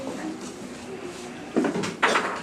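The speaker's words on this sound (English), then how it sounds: "I hear lots of chairs moving." Chairs scrape and shift in a classroom, with a hum of room noise and two louder scraping bumps near the end.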